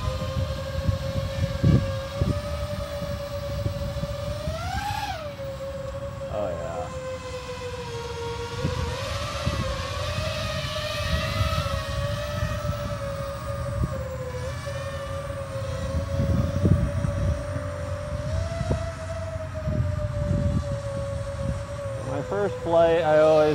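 An Eachine Falcon 180 FPV quadcopter drone flying on a 4S battery whines steadily with loud, close motor tones that rise and fall as the throttle shifts, sustained throughout.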